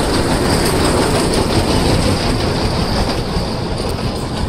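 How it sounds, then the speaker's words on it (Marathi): A small toy train runs at Elephanta Caves near Mumbai, producing a loud, continuous close rumble and rattle with no break and no voices. "टॉय ट्रेन आलेली आहे."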